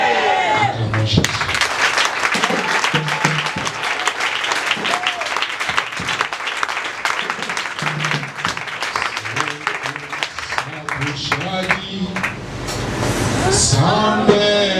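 Church congregation at a Sunday anointing service applauding to acclaim Jesus, with dense, sustained clapping and cheering voices filling the room for the whole stretch while a voice carries over the crowd.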